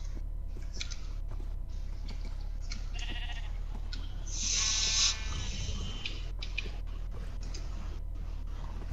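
Sheep bleating in the survival video game SurvivalCraft, a single short bleat near the middle over a steady low background hum, with no talk during the clip.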